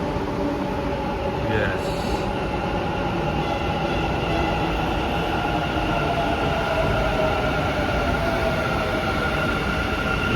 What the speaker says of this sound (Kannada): ಮೆಟ್ರೋ ಟ್ರೈನ್ ಬಂತು. ಇದು ಬಂದು ನಾಗಸಂದ್ರ ಕಡೆ ಹೋಗೋ ಟ್ರೈನ್.